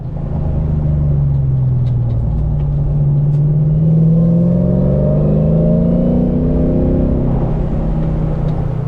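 A 1962-67 Chevy Nova on a SPEC chassis drives hard, its V8 engine droning loud and close with a rising rev, a brief dip as it shifts, then pulling strongly again.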